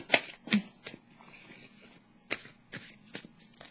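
Tarot cards being shuffled and drawn by hand, a series of short crisp riffles and flicks in a quiet room, several distinct bursts with brief pauses between them.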